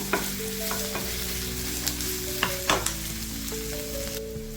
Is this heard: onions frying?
yes